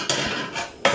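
A hot springform cake pan is flipped over in a kitchen, giving two sharp metallic clanks about a second apart, close and fairly loud with no talking.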